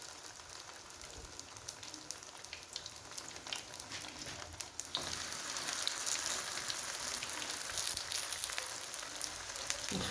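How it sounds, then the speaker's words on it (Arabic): Brik pastry frying in hot oil makes a steady, rain-like hiss and crackle that grows noticeably louder and denser partway through, close and continuous, with no talk. "راح ندوز نقلي معكم البريك"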